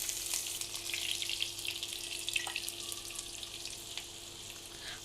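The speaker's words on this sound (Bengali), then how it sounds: "এই তেলেই আমি পেঁয়াজটা দিয়ে দিচ্ছি।" Sliced onion drops into hot oil left from frying eggs for an egg curry, giving a steady, fairly quiet crackling sizzle with a faint constant hum, and no one speaking.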